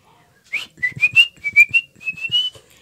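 Someone whistles a short melodic phrase of several rising and sliding notes, clear and close, with brief pauses between them.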